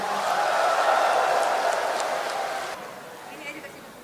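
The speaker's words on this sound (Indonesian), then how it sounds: "Tepuk tangan untuk DPC-DPC se-Indonesia." A large audience at a PKB party event applauds and cheers in a broad, sustained roar that fades after a few seconds and leaves a quieter room.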